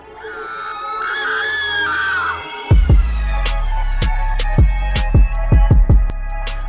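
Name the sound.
girl screaming in a horror story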